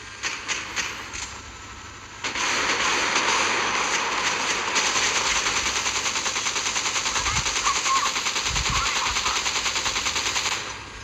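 Rapid sustained automatic gunfire from a helicopter in a mobile battle game, a loud continuous rattling burst running nearly ten seconds over an engine drone, with a few low thuds near the end.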